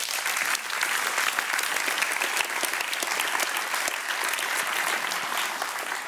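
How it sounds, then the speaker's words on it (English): Steady, dense audience applause fills a startup accelerator's demo day event hall, many hands clapping loudly and continuously with no talking over it. "give a big applause for the StartLife team"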